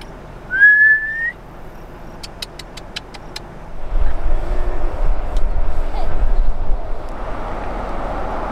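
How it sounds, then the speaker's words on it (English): A single brief rising whistle from a person on a clifftop camping spot, followed by sharp clicking and then a rising wind-like rumble that fills the rest. "It actually starts walking every time you whistle."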